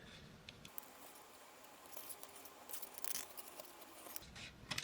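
Scissors cut out a fabric motif in short, quiet snips and rustles, faint and close, with brief pauses between cuts.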